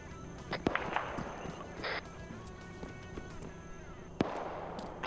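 A few sharp video game gunshots crack at irregular intervals over a continuous low rumble, some distant and one louder near the end.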